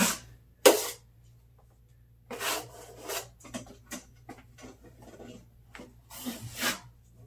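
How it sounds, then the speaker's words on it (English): Drywall compound being spread as a second coat over a water-damaged wall patch: close, intermittent scraping and rubbing strokes separated by short quiet gaps. "Just putting on the second coat now."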